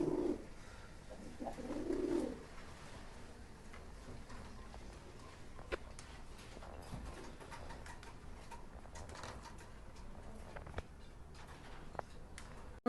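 Pigeons on a breeding farm coo softly and repeatedly, with low murmuring calls that are strongest early on, over a busy background of faint ticks and rustling.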